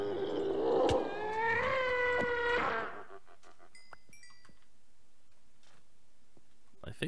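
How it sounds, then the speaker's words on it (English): The Minecraft Ghast cry, made from a sped-up cat, sounds as a loud warbling meow-like wail for about three seconds, followed by faint clicks and quiet game sounds. "the Ghast is actually C418's cat, just sped up. That's the reason why it almost purrs, because it literally is a cat."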